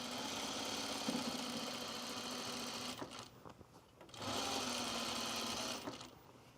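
Sewing machine running two long bursts of stitching along an elastic casing edge on pajama bottoms, steady whirring motor with a brief pause between runs, close and loud.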